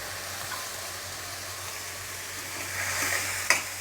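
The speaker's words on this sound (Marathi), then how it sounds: "ह्या मसाल्याबरोबर व्यवस्थित असं परतून घ्यायचं" Sprouted moong beans sauté in a spice masala, giving a steady soft sizzle with faint stirring scrapes and a low hum, plus a brief sharp clatter near the end.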